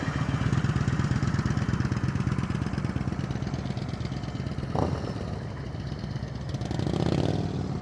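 A motorcycle rolls through slow-speed practice drills, its engine chugging in a steady low pulse at a slow crawl, fairly close, with a brief clank midway and a slight rise in revs near the end.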